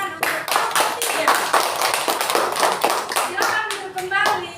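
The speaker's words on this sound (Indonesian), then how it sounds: "Ayo kita berikan tepuk tangan untuk kelompok 3." A classroom of students applauds a discussion group, dense rapid hand clapping that stays steady throughout with some children's voices mixed in.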